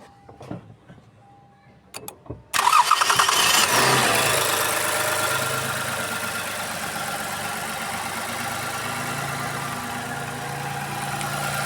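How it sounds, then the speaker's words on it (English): A 2019 Lexus RX350 engine cranks and fires up after a few short clicks, then settles into a steady, loud idle that runs on close by with no talk over it. "So the engine fired up straight up."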